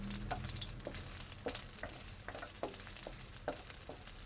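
Garlic and onion sizzle in hot oil for adobong balut, a steady frying hiss broken by repeated quick scraping stirs of a utensil in the pan, close and clear with no talking.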